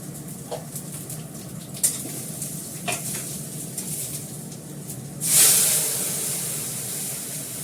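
Panch phoron spices drop into very hot oil in a pan and burst into a loud, close hissing sizzle that holds steady after a few light stirring clicks.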